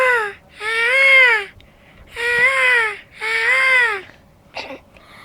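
A child imitates a peacock call with three loud, wailing, rising-then-falling cries, evenly spaced with short pauses between them, followed by a brief breathy sound at the end.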